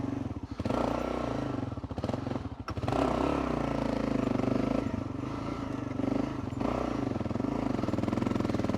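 A Gen 3 Kawasaki KLR 650 rides a tough off-road trail, its engine droning loudly and steadily up close, dipping briefly early on before resuming a continuous throaty run.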